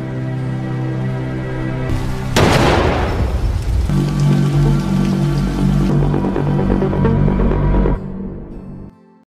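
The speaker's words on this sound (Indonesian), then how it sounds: "akhirnya terdengar suara tembakan" A sharp burst of gunfire rings out over a steady musical background, followed by a dense crackling rattle before the sound fades away.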